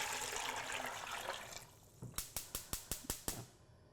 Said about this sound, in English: We're going to cover it with 8 cups of water